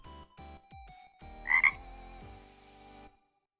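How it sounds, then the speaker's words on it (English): A frog croaks in a zombie roguelike game under development, a loud synthetic-sounding croak over looping game music and effects, then everything cuts to silence. "Why is there a frog as well?"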